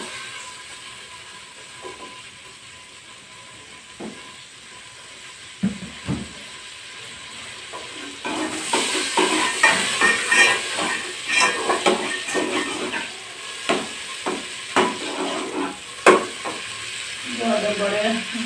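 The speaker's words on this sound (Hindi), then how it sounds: "अब पहले घी को अच्छी तरह गर्म कर लूंगी" Ghee heating in a pan, quiet at first with a few scattered clicks and knocks, then swelling into a loud, crackling sizzle that carries on to the end, dotted with sharp pops.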